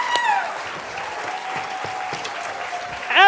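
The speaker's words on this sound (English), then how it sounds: "Everyone, how about some applause?" Audience applause fills a gala event for writers and illustrators, a steady wash of many hands clapping that swells louder near the end.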